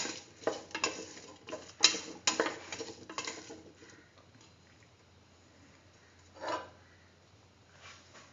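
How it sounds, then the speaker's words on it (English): A spoon scrapes and clanks around a pan of split chickpea chayote rice, with several quick stirring strokes in the first few seconds, then quieter scraping and one more clatter near the end. "Mix thoroughly."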